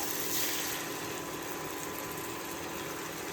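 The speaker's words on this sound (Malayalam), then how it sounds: "ഇത് നമ്മളിതാ ഇതിനകത്ത് കുറച്ച് ചൂടുവെള്ളം ഒഴിക്കാണ്ട്" Hot water poured into a pan of chicken curry, heard as a steady, soft, hissing wash of liquid that runs evenly throughout with no voices.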